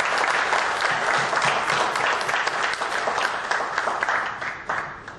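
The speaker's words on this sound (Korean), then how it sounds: "큰 박수로 맞아주십시오" Sustained audience applause at a 2014 economic policy lecture, a dense, steady wash of many hands clapping that fades slightly toward the end.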